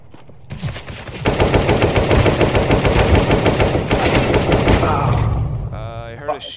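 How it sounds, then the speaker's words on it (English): Rapid gunfire in Counter-Strike: Global Offensive, a dense, loud burst of shots lasting several seconds, followed by a short warbling sweep; the speaker identifies it as a shotgun. "Shotgun somewhere."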